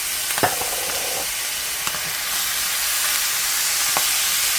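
Ground beef with taco seasoning and a can of Rotel sizzles loudly in an overheated pan, a steady bright hiss with a few scraping stirs near the start, close and without talking.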